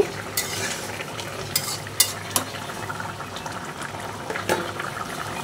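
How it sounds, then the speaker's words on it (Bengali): Fish curry simmering in a pot with the lid lifted, stirred with a few clear scrapes and clinks of the spoon over a steady low bubbling, close and fairly quiet, with no voices. "ঢাকনাটা তুলে একটু নেড়ে দিচ্ছি, দেখি তরকারিটা কত দূর হলো"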